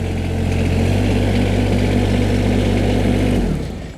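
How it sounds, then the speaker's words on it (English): A Branson 1905h 19HP sub compact tractor's engine runs loud and steady at a constant low drone for several seconds, then cuts off and fades near the end. "So the first thing to do is to start the engine and put the legs down"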